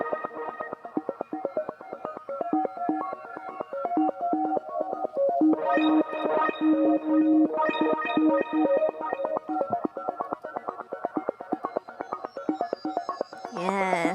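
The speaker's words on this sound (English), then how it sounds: "Let's take a listen to the arpeggiator sequence in the break." A bright synthesizer arpeggio in the break of a song cycles rapidly and steadily, with layered sine-wave tones joining midway and a rising sweep at the very end.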